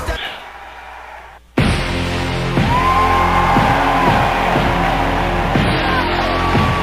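A capacity crowd at a WWE SmackDown wrestling show erupts into loud, sustained cheering and yelling after a brief quieter lull, with a recurring booming entrance beat pounding underneath.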